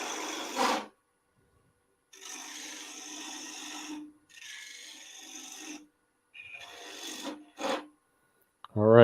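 A woodturning tool cuts the top of a wood tenon on a lathe to clean it up, heard as four separate rasping bursts of a scraping cut, each a second or two long, with quiet gaps between them.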